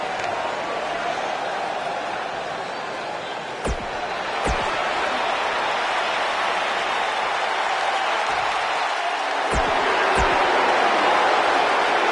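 A steady, dense murmur of a wrestling arena crowd in the WWE 2K19 video game holds at an even level throughout, with a few brief sharp clicks.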